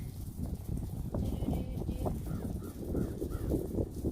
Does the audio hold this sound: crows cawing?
yes